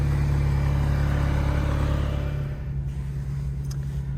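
Alpine A110 with a 1.8-litre 252 hp engine in sport mode, a steady loud engine drone with a strong low hum that eases slightly partway through, heard alone without talk.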